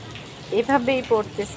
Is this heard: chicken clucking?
no